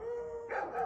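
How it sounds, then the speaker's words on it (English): A neighbour's dog gives a short whining, howl-like yelp followed by a quick bark, close and brief with no talk. "Some really nice dogs next door."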